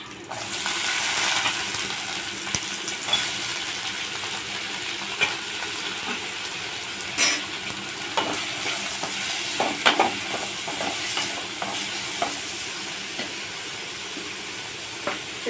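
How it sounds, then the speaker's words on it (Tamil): Cut green beans fry with onions in a pan while being stirred, a steady close sizzle broken by scraping and clacking stir sounds, fairly loud, with no one talking. "இப்போ நம்ம கட் பண்ணி வச்சுருக்க பீன்ஸை இதோட சேர்த்துக்கிறோம்"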